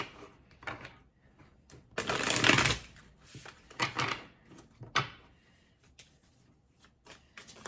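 A deck of tarot cards being shuffled and handled close by, with quick papery riffles and snaps in irregular bursts and brief pauses between them.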